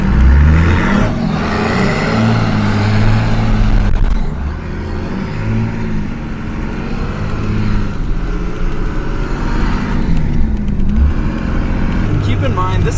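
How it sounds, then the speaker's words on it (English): A 2nd gen Cummins truck in four-wheel drive braking hard and sliding on snow, a steady loud engine and road rumble with a faint skid, under continuous talking from the driver. "if I go foot all the way on the brake, this is what happens."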